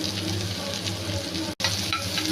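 Finely chopped half onion frying in sesame oil makes a dense, even sizzle close to the pan. A soft stirring texture runs through it, with one brief dropout midway and no voices.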